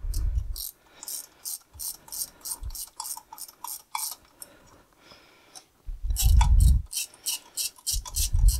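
Ratcheting clicks in repeated quick bursts while the clutch pressure plate on a David Brown 990 tractor is tensioned down, with heavier thuds and a loud low clunking spell near the end, close and clear.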